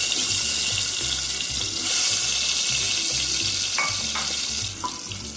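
Potatoes fry in a little oil inside a pressure cooker, giving a loud, constant rushing sizzle close by, with a few faint clinks near the end.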